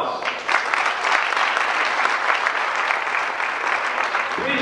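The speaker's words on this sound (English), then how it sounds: "Please give George a round of applause." Audience applause for a competitor at a 1998 men's bodybuilding night show, a steady, dense wash of clapping that sustains evenly at full strength throughout.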